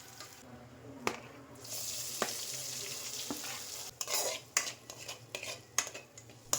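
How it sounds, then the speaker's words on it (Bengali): Mixed vegetables fry with chopped ginger and whole garam masala in a pan for fried rice, sizzling steadily while a utensil stirs and scrapes with sharp metallic clinks, growing busier toward the end. "সবজিটা একটুখানি ভেজে নিয়ে অল্প একটুখানি আদা কুচি"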